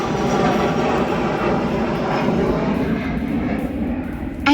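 An aeroplane passes over an aircraft viewing area at Sheldon Country Park in Birmingham, a loud, steady engine roar that holds throughout, ending with a brief sharp noise.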